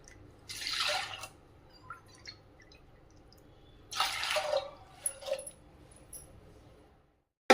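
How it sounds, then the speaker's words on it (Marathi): Water is poured into washed lentils in two short splashing bursts, the first around a second long and the second slightly longer, with small drips and trickles between them in a quiet room. "वाट्या पाणी टाकून घेऊया"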